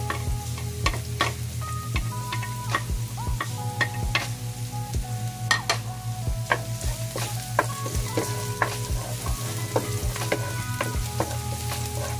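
Garlic stir-fries in a pan, a continuous sizzle and crackle with a steady low hum beneath and repeated sharp scrapes and taps of stirring, all without any talk.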